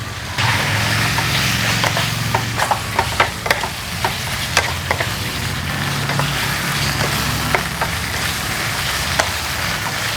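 Pork belly stir-frying with red curry paste, soy sauce, oyster sauce and sugar in a pan, a steady close sizzle broken by repeated sharp scraping clicks of a spatula against the metal, with a low rumbling hum underneath throughout.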